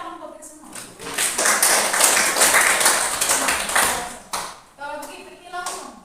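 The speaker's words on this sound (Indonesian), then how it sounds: "Tepuk tangan buat kita semua." Classroom of students clapping together during a chemistry lesson, a burst of rapid mixed hand claps building and lingering for several seconds, with a teacher's voice before and after.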